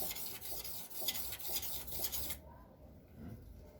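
A hand tool with a bevelled edge rubbed flat across a sharpening stone, rhythmic rasping strokes close by for a couple of seconds before stopping into near quiet.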